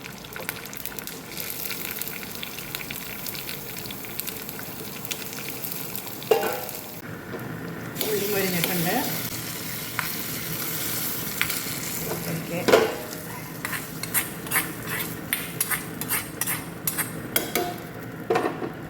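Dried red chillies, curry leaves and shallots dropped into hot oil for a bottle gourd and split pulse curry, a soft steady sizzle with bursts of crackling spatter and clinks of a spoon against the pan, no talking.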